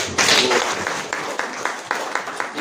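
A church congregation claps in praise to God during a sermon. A dense burst of applause fades into scattered, rhythmic hand claps that repeat at a steady pace.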